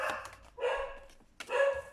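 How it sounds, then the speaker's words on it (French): A dog barks twice in quick succession, two loud, close yips with a short gap between them, alone with no talk over them. "ma chienne aboie"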